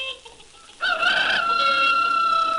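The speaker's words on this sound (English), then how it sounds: "the busy cluck-cluck bitty hen" A hen from a farm audiobook, with bird calls that start abruptly partway through as a clear, close, loud vocalization with sustained tonal squawks rather than distinct clucks, held steady to the end.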